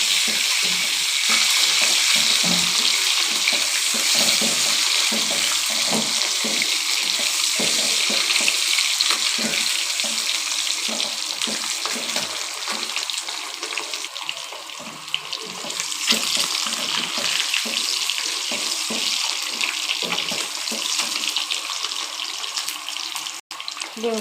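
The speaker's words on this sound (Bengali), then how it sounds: "ডিম দিয়ে লবণ হলুদ দিয়ে দিলাম কিছুক্ষণ" Duck eggs frying in a pan with salt and turmeric, a steady close hiss and crackle of hot oil running throughout with light scraping, no talk.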